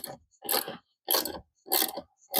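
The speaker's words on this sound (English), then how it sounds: "How many cranks does it take to get a single bolt in?" A hand crank turning to drive a bolt in, heard as four loud, close bursts of ratcheting mechanical clatter separated by short silent pauses.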